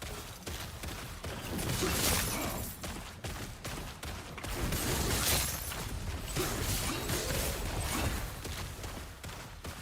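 Chaos bolts spell cast by a Spellblade mage in a video game, a dense, continuous barrage of crackling, shattering bursts and whooshes that swells and surges for about ten seconds with no pauses.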